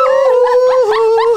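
A person's voice imitates a wolf howl: one loud, close, sustained wavering tone that bends downward at the end.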